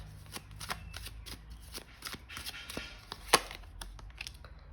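Close, clattering shuffle of a tarot deck as the next card is drawn, with several soft slaps and one sharp snap near the end, heard on its own without speech.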